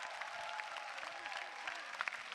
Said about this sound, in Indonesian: Tepuk tangan Rio dari para penonton di Usmar Ismail.